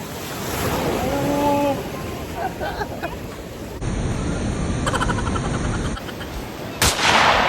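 Heavy ocean surf roars and crashes continuously at Baler, with wind buffeting the microphone and a few faint voices and sharp knocks mixed into the noise.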